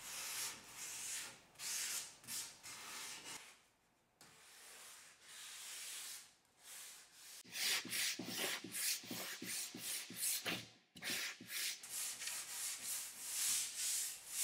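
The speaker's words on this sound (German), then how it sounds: "müssen jetzt nur noch die Ecken und Kanten angeschliffen werden" Rhythmic abrasive rasping of sandpaper worked back and forth over wooden furniture edges, close and steady, with a brief pause midway.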